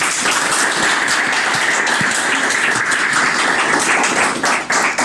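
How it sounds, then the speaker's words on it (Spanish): A church congregation applauds during a morning service, a loud, dense, continuous roar of clapping that holds strong for several seconds before dipping slightly at the end. "vamos a darle un fuerte aplauso al Espíritu Santo"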